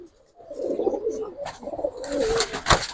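Giribaz pigeons, including a silver pair, cooing in a loft: low rolling coos close up, followed by brighter scuffling and a sharp flutter of wings near the end.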